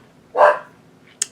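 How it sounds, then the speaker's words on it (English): A pet dog indoors barking at a neighbor passing with his dogs, one clear bark followed a moment later by the start of another, fairly close and loud against a quiet room. "There's my dog barking, because my neighbor dares to walk his dogs in front of my house"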